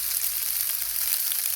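Layered food sizzles steadily on a Blackstone griddle, a dense close crackling fry that stays even and unbroken throughout, with no voices.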